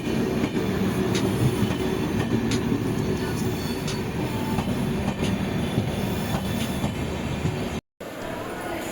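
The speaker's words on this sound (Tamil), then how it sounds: "பக்கத்துலேயே பார்த்தீங்கன்னா மயிலாடுதுறை விழுப்புரம் பேசஞ்சர் கிளம்பிடுச்சுங்க" A Mayiladuthurai–Villupuram passenger train pulls away from a station platform in a steady, loud rumble of rolling cars, with faint wheel clatter and squeal running throughout; it breaks off briefly near the end.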